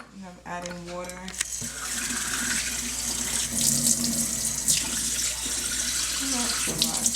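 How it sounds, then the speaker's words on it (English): Kitchen tap running into a container while cooking, a steady splashing water stream beginning after a voice speaks briefly at the start, with small clinks and shifts in the flow as it fills. "I'm adding water."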